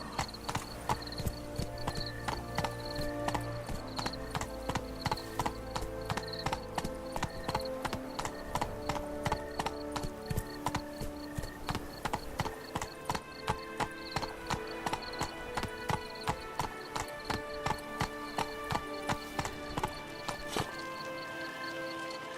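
A horse galloping in The Witcher 3 video game, rapid rhythmic hoofbeats pounding steadily and close over a musical score, with no one speaking.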